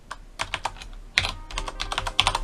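Rapid keystrokes on a computer keyboard while a command and file path are entered to flash a CC2531 dongle: close, crisp clicks in uneven bursts with short pauses, no talking.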